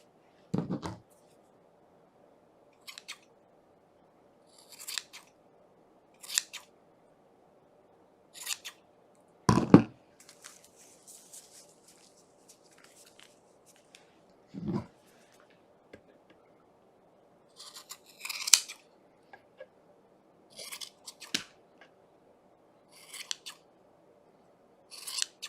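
Scissors trim the ends of a yarn pom pom with a long series of crisp, close snips, spaced irregularly with brief quiet gaps between the cuts.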